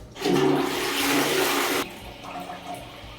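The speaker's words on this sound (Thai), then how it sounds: "ลองกดฝักดูนะครับ" A toilet flushing during a new-house inspection drainage test, a loud close rushing gush for about a second and a half that cuts off abruptly, followed by quieter gurgling and refilling water.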